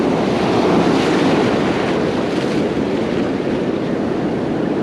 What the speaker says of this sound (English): once that set of waves comes in